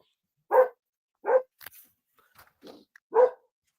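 A dog nearby gives three sharp, separate barks spaced about a second apart, with small soft thumps and rustles between them in an otherwise quiet room.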